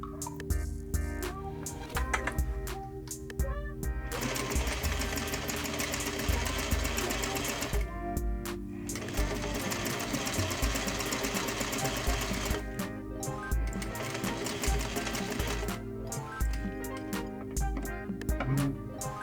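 A sewing machine stitches along the long side of trouser fabric in steady bursts of rapid mechanical chatter, with brief pauses as the needle pivots, close and fairly loud throughout.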